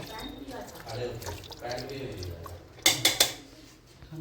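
Mutton biryani stirred in a pot and then covered: soft scraping and squishing of rice under a person talking, ending in a few sharp metallic clanks as the lid goes on.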